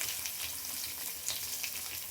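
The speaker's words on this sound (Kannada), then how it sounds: "ಇವಾಗ ಈರುಳ್ಳಿ ಹಾಕ್ತಾಯಿದ್ದೀನಿ." Onions sizzling and frying in hot oil with mustard seeds, curry leaves and green chillies for a Karnataka-style toor dal curry, a steady, dense crackle running throughout with no talk.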